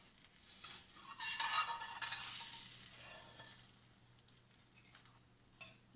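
A spatula scrapes and slides under an omelet in a pan, with soft, faint scraping strokes and light clinks set against a quiet kitchen background.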